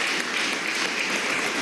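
Steady, dense applause from a gathering honoring government ministers during a Venezuelan working meeting, broad and even for under two seconds with no voices rising above it.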